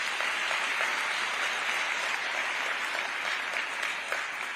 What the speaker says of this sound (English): I think we should clap for those guys.